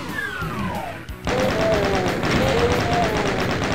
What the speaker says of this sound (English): Chain gun, let's go.